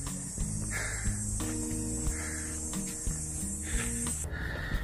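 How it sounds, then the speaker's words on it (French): Cicadas drone in a steady high-pitched band along a hiking trail on Lion Rock in Hong Kong, continuous over a low background rumble and scattered noises. "les cigales sont de retour."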